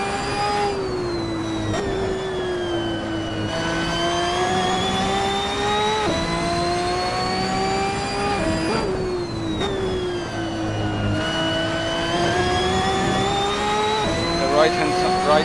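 Sustained high-revving engine of a Ferrari 599XX EVO track car in the racing game Assetto Corsa, a steady loud tonal whine rising and dipping with gear changes, with a voice talking over it.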